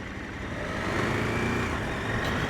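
A KTM 1290 Super Adventure S motorcycle engine runs steadily under load while shifting from first to second gear with a quick shifter, a continuous broadband drone that swells slightly partway through, with no talk.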